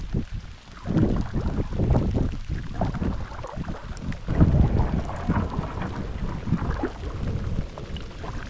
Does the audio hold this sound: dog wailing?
no